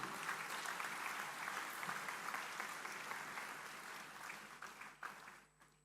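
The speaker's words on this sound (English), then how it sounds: "Continue the applause" Sustained audience applause fills a hall at an evening degree convocation, a dense crackle of many hands that holds steady and then tapers off near the end.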